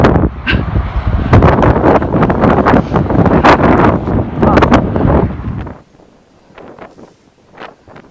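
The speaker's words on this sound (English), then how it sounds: "This is how strong the wind is." Strong wind gusts buffet the microphone outdoors at a Galveston event, a loud roaring rumble for about six seconds before dropping to quieter rustling with faint distant sounds.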